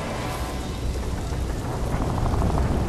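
Steady heavy rain in the Crysis 2 game, a dense continuous hiss with a low rumble underneath, loud and unbroken with no talk.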